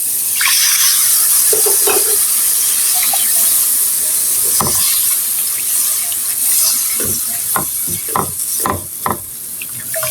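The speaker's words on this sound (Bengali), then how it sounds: "এই তো পেঁয়াজগুলো আমার হালকা একটু ভাজা নেওয়া হয়ে গেছে এখন আমি দিয়ে দিব পানি" Water hits a hot pan of lightly fried onions and green chillies, hissing and sizzling steadily, with scattered clinks and stirring knocks from a spoon toward the end.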